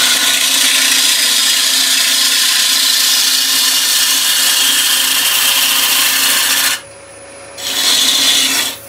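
Scrap wood spins on a lathe while a tool takes a finishing cut on a bowl, a loud continuous rasping hiss that stops abruptly near the end, then resumes for a brief burst.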